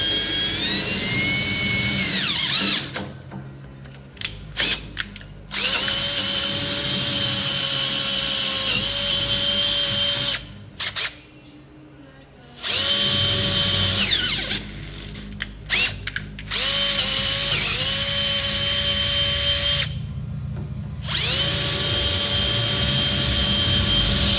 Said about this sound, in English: And then we're gonna drill these out nice and easy.